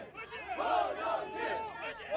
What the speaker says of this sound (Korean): 지지자들의 함성과 장애인 단체의 고함이 뒤섞이는 순간